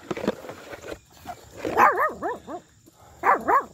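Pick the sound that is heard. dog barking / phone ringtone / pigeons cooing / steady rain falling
dog barking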